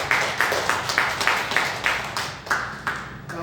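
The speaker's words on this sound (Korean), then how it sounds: "우리 박수로 감사하고," A congregation gives a short round of applause, a series of about ten evenly spaced clapping bursts that are close and fairly loud, with no talk over them.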